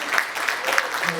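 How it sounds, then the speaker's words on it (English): Brief applause from a live comedy podcast audience at a comedy club marking a 100th episode, a short burst of clapping with voices mixed in. "Round of applause, man."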